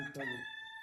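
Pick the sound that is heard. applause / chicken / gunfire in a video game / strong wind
chicken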